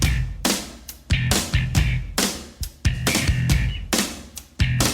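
A song re-recorded with a new vocalist, a loud full-band rock mix with punchy, rhythmic drum and guitar hits in a driving, sped-up groove, no talking.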